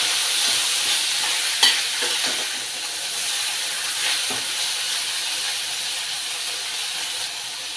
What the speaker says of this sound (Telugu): ఇది శుభ్రంగా కలిపి వేగనివ్వాలి ఎర్రగా